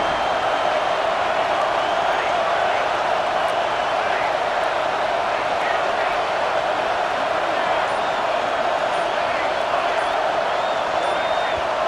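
A packed stadium crowd at a college football game, Texas versus USC, roars in a steady, dense, unbroken wall of noise, with a commentator speaking over it.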